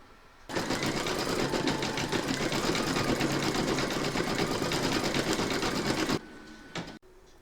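An embroidery sewing machine stitching the mouth of a large Santa appliqué in flesh-pink thread runs at a rapid, even needle rhythm for about six seconds, close and loud, then stops with a few small clicks.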